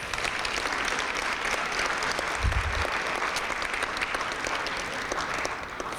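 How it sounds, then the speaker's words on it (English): Audience applauding student musicians at a Duke alumni awards event, a steady, dense wash of clapping from many hands that holds at an even level throughout and sounds close and full. "Can we give them a round of applause?"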